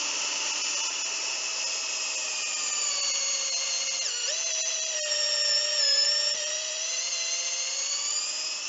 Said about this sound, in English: just take it nice and steady and drill straight through